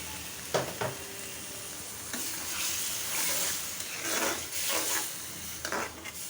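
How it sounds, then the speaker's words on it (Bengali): Coconut milk poured into a hot kadai for a dried-fish curry gives a loud, continuous sizzle and bubbling hiss, punctuated by a few knocks and scrapes of a stirring spoon against the pan, with no voices. "এখন নারিকেলের দুধটা দিয়ে দিলাম"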